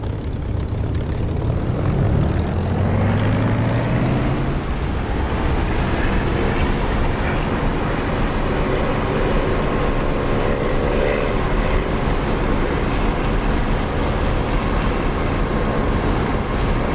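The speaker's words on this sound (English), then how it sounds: "Throttle up." A propeller aircraft in the DCS flight simulator throttles up for takeoff, its engine drone rising in pitch over the first seconds, then holding a loud, steady roar with no talking.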